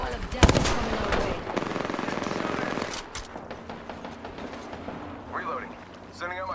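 Gunfire in the Apex Legends video game strikes the player in loud, rapid bursts, with dense automatic shots and impacts crowding the first few seconds before easing into scattered noise and brief game voice lines.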